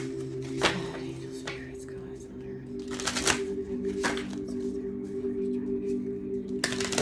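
A deck of tarot cards is shuffled close up, with several quick riffling bursts of crisp card flutter over a steady low background hum.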